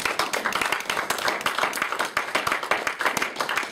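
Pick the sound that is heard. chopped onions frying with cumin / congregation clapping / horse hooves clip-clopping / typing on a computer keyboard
congregation clapping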